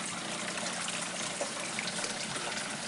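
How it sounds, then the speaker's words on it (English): Water rushes and splashes steadily while rocks are rinsed for a saltwater reef tank setup, a continuous moderately quiet gushing without pauses or speech. "Now she's washing her rocks down, making sure they all look pretty."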